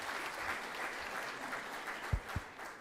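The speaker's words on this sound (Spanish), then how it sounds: "Un aplauso para el compañero." Audience at a public forum applauding a participant, a soft, fairly distant patter of clapping with a couple of louder thumps near the end.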